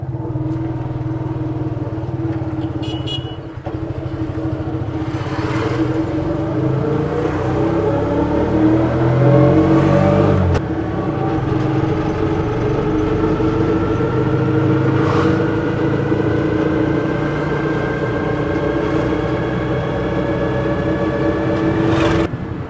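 A 2024 TVS King Duramax Plus auto rickshaw engine drones steadily while driving, a close, continuous hum that climbs in pitch as it accelerates through gears, with occasional knocks and rattles over the whole stretch.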